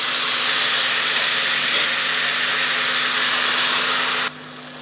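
Dal poured into hot ghee tempering, a loud close hiss of sizzling that holds steady for several seconds and then drops abruptly to a quieter simmer near the end.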